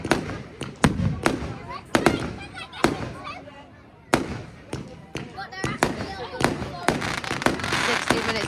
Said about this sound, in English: 60 minutes of fireworks just now.